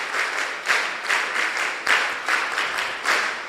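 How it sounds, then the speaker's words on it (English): A small audience at a mentorship session claps together in a steady round of applause, fairly close, with rhythmic swells of clapping and no talk over it. "Come on, give her a round of applause."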